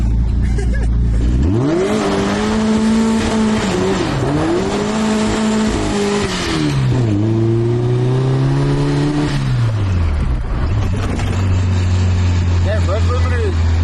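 Engine of a turbocharged Mazda Miata breaking up and stuttering while being driven, loud and close, with revs rising and falling in uneven surges and a steady lower drone near the end.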